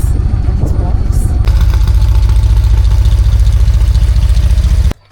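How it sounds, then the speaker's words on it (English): Harley-Davidson Road King Special with a stage 4 engine idles loudly and close by in a driveway, a steady deep rumbling throb that cuts off abruptly at the end, with a voice talking over it. "Tell me about this Harley Davidson. Road King Special. Got a stage 4 engine."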